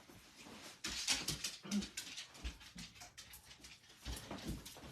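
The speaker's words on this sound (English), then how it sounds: "Sorry, my dog is crying." A dog whimpers and cries close by, a string of thin, whiny yips and whines rising and falling over several seconds, fairly soft and with no talking.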